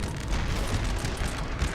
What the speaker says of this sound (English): So we're firing cannon into all that mess.